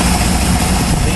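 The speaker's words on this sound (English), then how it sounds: "I can run this engine all day long and those temperatures just will not move." A Jabiru aircraft engine fitted with a liquid-cooled head runs steadily on a test stand, a loud, close, continuous engine drone with no breaks.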